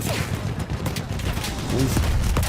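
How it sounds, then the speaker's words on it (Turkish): A vehicle explodes amid gunfire in the World War I shooter game Battlefield 1, a loud burst of crashing blasts and rattling shots over a busy battle din, with a voice talking over it. "Gelen giden önümüzde araç patlatıyor arkadaşlar ya."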